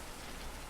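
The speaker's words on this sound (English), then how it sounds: "only the sound of rain remains" Steady rain falling in a visual novel video game, a continuous soft hiss of drops with no other sounds present.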